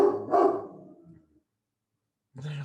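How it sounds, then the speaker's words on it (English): A big dog gives deep, booming barks indoors: two loud barks close together, a fading tail, then near silence before another bark starts at the end. "he's got a deep bark."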